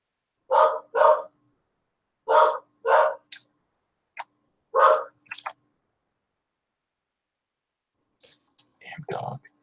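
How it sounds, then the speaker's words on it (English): A dog barks in sharp bursts, two quick pairs then single barks, fairly close and loud, with someone speaking briefly near the end. "Damn dog."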